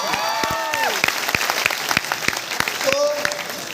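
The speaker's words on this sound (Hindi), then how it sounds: "जोरदार तालियां बजा सकते हैं" Seminar audience clapping at a business talk, a loud crowd of applause with sharp individual claps rising out of it, while a voice speaks over the top.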